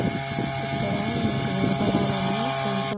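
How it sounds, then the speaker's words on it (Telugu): An engine runs in a watermelon field with a steady, droning hum and a buzzing tonal whine, holding at an even level throughout. "ఇంజిన్ శబ్దం పెట్టానండి"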